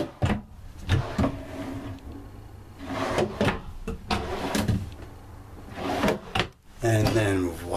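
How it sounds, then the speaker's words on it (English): Storage drawers in an RV slide open and shut with a series of knocks and rolling thuds, close by and fairly loud, with a voice talking between them. "So we'll look at these drawers."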